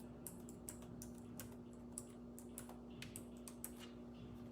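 Quiet keypresses on a computer keyboard as a code is entered, a quick irregular run of light clicks over a steady low electrical hum, with no talking.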